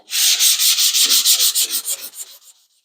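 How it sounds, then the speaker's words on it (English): A car panel coated with 2K primer being block sanded by hand, with a rapid series of rhythmic back-and-forth scrubbing strokes, loud and close, fading out over the last strokes. "We'll continue to sand here."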